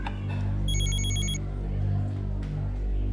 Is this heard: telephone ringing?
yes